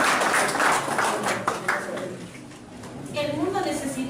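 An audience applauds colleagues at a formal institute ceremony, a dense round of clapping that fades midway, with voices rising over the tail end.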